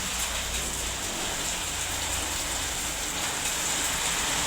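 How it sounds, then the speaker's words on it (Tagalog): Heavy rain pours steadily onto surfaces at an outdoor laundry area, a dense, even hiss that stays loud and unbroken from start to finish with no voices. "Ay, grabe ang ulan."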